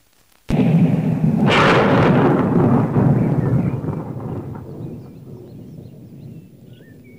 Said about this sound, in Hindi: जोर जोर से गरजो और जोर जोर से बरसो।